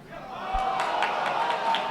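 Tournament crowd at Apex 2010, a Super Smash Bros. Brawl event, a dense murmur of many voices and chatter swelling and holding steady in a large hall.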